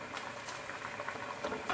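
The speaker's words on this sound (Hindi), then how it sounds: "व्यूअर्स, आप देख सकते हैं कि इसको उबाला आ गया।" Pot of water boiling for mutton yakhni pulao: steady soft bubbling and popping patter, faint and continuous, with no voices.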